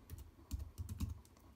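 A computer keyboard clatters as a curl command is typed, several quick soft key taps in an uneven rhythm, close and quiet.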